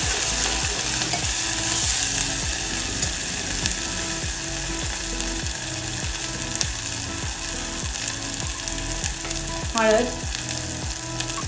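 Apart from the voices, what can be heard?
masala frying in oil in a pan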